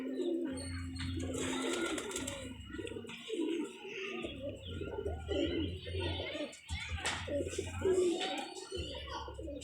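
Pigeons coo in repeated low, throaty phrases close by, with someone talking in Hindi over and between the calls.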